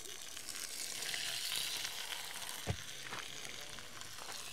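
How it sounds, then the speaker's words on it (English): Pork chops sear in a hot pan ahead of a Dutch oven bake, giving a steady, moderately loud hiss with one sharp knock partway through. "Now, I'm just gonna throw them on the pan and sear them up"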